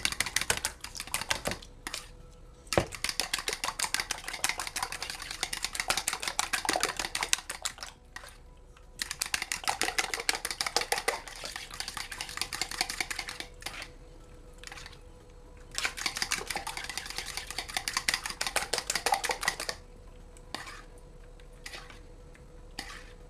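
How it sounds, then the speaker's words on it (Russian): A utensil beats rapidly against a bowl of lightly salted eggs in fast clicking bursts, pausing briefly between several rounds of steady whisking. "Немножко присаливаем и слегка взбиваем в однородную массу."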